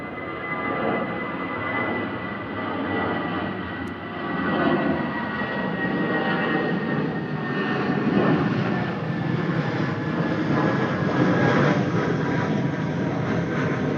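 Airbus A319 jet departing Manchester Airport, a loud continuous broadband engine roar that swells slightly and holds steady, heard alone without talk.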